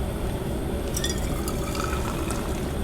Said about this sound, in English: You're supposed to pour the broth in?